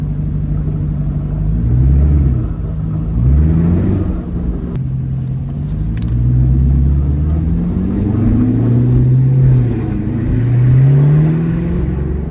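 A rebuilt Corvette on its first test drive, its engine droning steadily with low harmonic swells as it revs up and down in gentle waves, close and continuous, with no talk over it.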